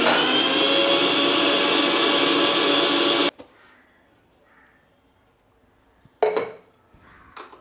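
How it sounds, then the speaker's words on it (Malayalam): A mixer grinder (mixie) runs loud and steady, then cuts off abruptly, followed by quiet and a couple of clinks of the jar and lid being handled. "നമ്മൾ മിക്സി നേരെയല്ല വെച്ചത്"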